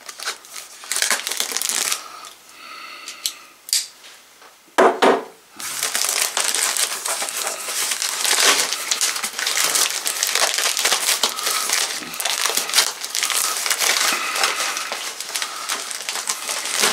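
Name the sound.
unboxing packaging of Retevis H777 GMRS radios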